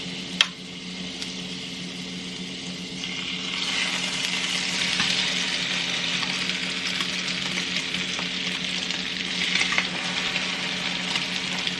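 French toast frying in butter in a large pan gives a continuous close sizzle that swells and grows brighter partway through, with a few faint clicks and no talking.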